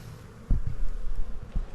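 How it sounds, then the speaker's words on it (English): Honey bees humming around an open hive during a spring inspection, a close, continuous buzzing swarm with a few louder passes near the microphone. "Look at all those bees coming to greet me."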